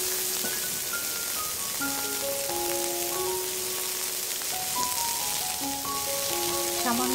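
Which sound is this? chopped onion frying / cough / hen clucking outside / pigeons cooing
chopped onion frying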